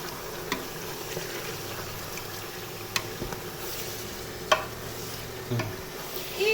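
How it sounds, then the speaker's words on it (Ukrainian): Steady crackling sizzle of fresh pork frying in a pan in its own juices, with occasional clinks and scrapes of stirring over the hiss. "Смажиться буде ось так красиво."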